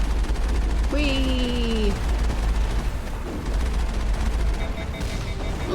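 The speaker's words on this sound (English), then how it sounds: "Oh, something's shooting." Gunfire in the Mass Effect video game, a steady rattle of shots with booms under a voice exclaiming, set among game sound and a short rising tone.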